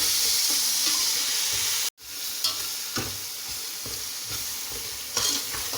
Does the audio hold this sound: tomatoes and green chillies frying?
yes